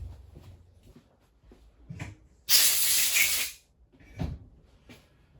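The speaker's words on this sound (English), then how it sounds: "I'm just gonna go give this carb a little blow off." Compressed air blasted onto the carburetor of a Stihl MS461 chainsaw, one loud hissing burst lasting about a second, close and alone, with small handling clicks and knocks before and after.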